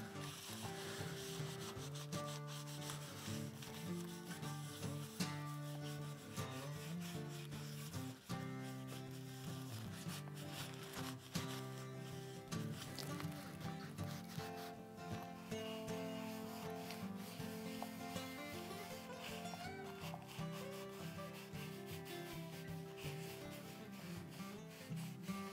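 Neat's foot oil is rubbed by hand onto a leather axe sheath in a steady, continuous soft scrubbing that runs the whole time beneath loud tonal music.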